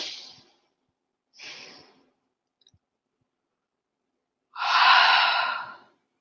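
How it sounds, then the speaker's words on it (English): A person yawning up close: two short breathy exhalations, then a longer, fuller drawn-out yawn after a pause, with silence in between and no talking. "y'all know when I'm yawning"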